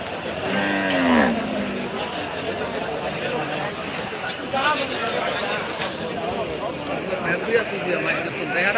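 Cattle low at a busy Eid livestock market, with drawn-out moos over a dense murmur of crowd chatter, one call near the start and fainter lows further off.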